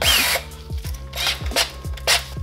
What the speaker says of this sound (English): if your drill has some settings, I always turn it on low